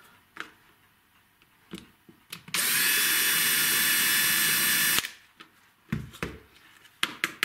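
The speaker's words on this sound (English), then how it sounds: "Just going to give that a little go with the drill." A power drill loosens a part on a Tri-ang model railway diamond crossing, running in one steady loud burst of about two and a half seconds, with handling clicks and knocks before and after.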